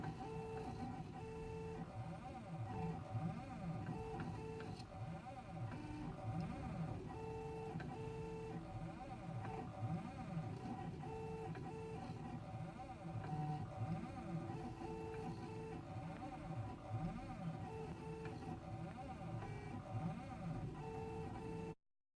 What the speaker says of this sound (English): Here's the machine working.